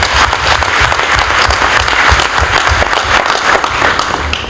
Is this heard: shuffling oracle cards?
no